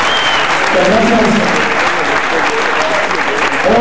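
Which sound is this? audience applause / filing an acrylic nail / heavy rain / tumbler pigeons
audience applause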